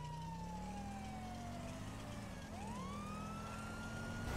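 Police car siren in Grand Theft Auto 5, a loud wailing tone sweeping down then rising again over a low engine rumble, close and continuous.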